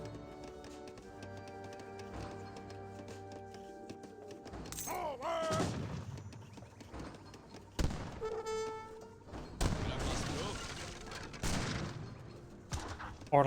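Cannon and musket volleys crack and thud in a battle in Age of Empires 3, with scattered gunfire bursts and booms among layered game music and effects at moderate volume.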